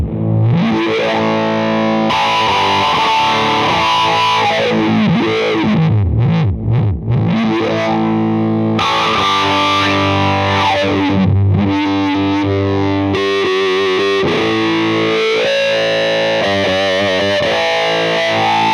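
An electric guitar runs through a Fairfield Circuitry Long Life pedal with its notch boosted into a resonant spike, producing loud, continuous distorted tones with sweeping, vocal, wah-like filter movements and strummed chords, heard alone without talking.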